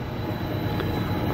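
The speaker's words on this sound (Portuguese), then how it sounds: "com esse trem de 135 vagões" A 135-wagon freight train rolls steadily along the rails on an export corridor, a continuous close rumble of wheels and cars with no pauses or voices.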